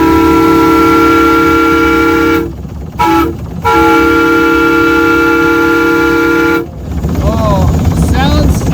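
A steam whistle on a horizontal-piston steam locomotive blows loud sustained blasts with two short breaks between them, then cuts off and gives way to rumbling machinery and voices.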